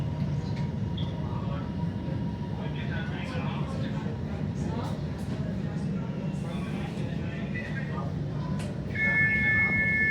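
A steady low rumble and rattle from inside a moving Melbourne HCMT commuter train carriage in the City Loop, with passengers' voices murmuring beneath the constant drone.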